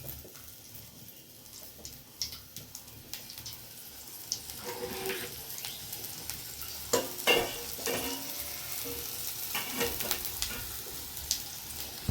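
Nigella seeds, onion and garlic fry in a pan while the cook stirs, giving a steady low sizzle with scattered scraping and clinking taps that grow busier over the second half; no one speaks.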